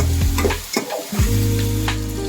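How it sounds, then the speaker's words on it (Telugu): Mixed vegetables with green peas are stirred in a pot for vegetable biryani, loud frying sizzle broken by a few close scraping ladle strokes. "ఇలా వెజిటేబుల్ వేసుకొని బాగా కలుపుకోవాలి"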